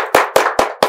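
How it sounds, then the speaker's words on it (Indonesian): Four sharp, evenly spaced claps of applause welcoming a guest, close and loud, each a crisp burst that quickly fades, with no talk over them. "boleh tepuk tangan?"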